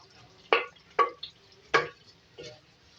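A spoon scrapes and stirs bhuna chicken and potato curry with garam masala in a pan, giving three or four short, distinct, close clattering strokes against a nearly silent background.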